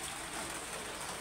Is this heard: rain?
yes